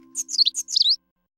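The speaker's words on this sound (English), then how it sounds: "A baby bird is coming out of the egg." Cartoon-style chirps of newly hatched baby birds in a children's animal song: a short run of high, sweet tweets over a faint steady tone, clean and close, then silence.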